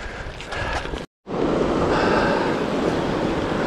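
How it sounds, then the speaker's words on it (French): A waterfall and flowing water beside a gravel bike trail on the col de Chérel give off a steady, loud broadband rush with wind mixed in. The sound breaks off briefly near the one-second mark, then resumes. "Vous entendez cette ambiance d'eau, de cascade."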